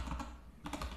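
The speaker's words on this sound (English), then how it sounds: "just type the URL" Fingers type a web address on a computer keyboard, a quick run of light clicking keystrokes in two short bursts with a brief pause between.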